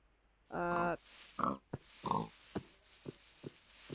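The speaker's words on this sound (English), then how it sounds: "Let's go murder off some pigs." Several short pig grunts and squeals from a Minecraft pig, one longer harmonic squeal followed by a string of brief grunts at irregular intervals, fairly close and clear with no talking over them.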